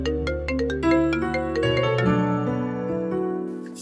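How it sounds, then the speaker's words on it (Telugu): Melodic ringtone from a mobile phone, with a clear tune of rising and falling notes played loud and close with no voices. "ఫోన్ వస్తుంది కదా"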